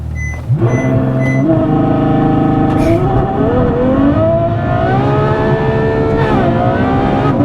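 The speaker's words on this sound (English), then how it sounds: "I feel like we need launch control again." A 2015 Ferrari F12 launches hard under launch control, its engine note climbing loud and close through a steady rising sweep with a brief dip around the shift, continuous throughout.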